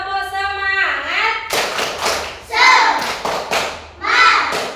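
A third-grade class performs a rhythmic spirit clap, several sharp group claps in a quick pattern after children's voices chant together, all close and loud.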